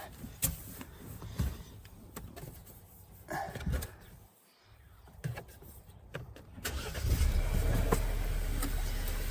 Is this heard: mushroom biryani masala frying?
no